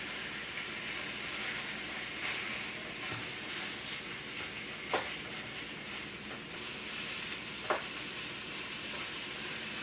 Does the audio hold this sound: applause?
no